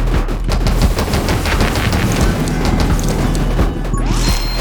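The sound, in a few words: weapon gunfire in video game 20 Minutes Till Dawn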